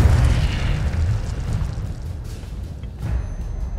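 Incendio fire spell blast in Hogwarts Legacy, a deep, rumbling burst of fiery whoosh that sustains loudly for several seconds, with a fresh surge near the end.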